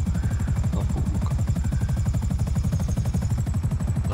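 A helicopter in GTA Online drones loud and close with a steady pulsing rotor chop and engine buzz, continuous throughout with no talking.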